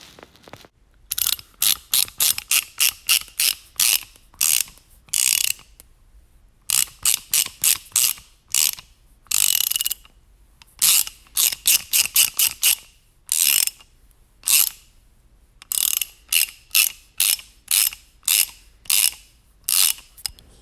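A repaired Lego Stuntz stunt bike's back wheel spins up in repeated bursts, each a rapid, close ratcheting whir of small plastic gears, separated by short pauses, with no talking.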